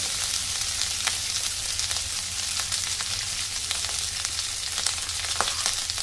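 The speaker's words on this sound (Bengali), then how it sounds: "ভাতটা দিয়ে কিন্তু অল্প অল্প করে নাড়াচাড়া করবো" Cooked rice sizzling steadily in a hot pan for restaurant-style fried rice, with occasional soft scrapes of stirring over a constant close frying hiss.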